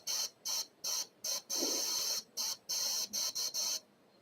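Airbrush spraying dark paint in short hissing bursts, about ten separate sprays of varying length with one longer burst near the middle, close and clear with quiet gaps between them and no talking.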